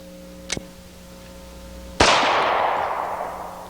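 A Smith & Wesson 4506 .45 pistol fires outdoors: a faint distant crack, then one loud sharp close shot with a long fading echo tail.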